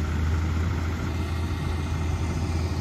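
A tractor in first gear hauls a 24 ft trolley across a wet paddy field, its engine a steady, loud, low drone that never changes pace.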